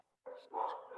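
A dog barks in the background, a single fairly faint bark with a short whimpering tail, heard during a quiet pause in a lecture on in vitro plant culture.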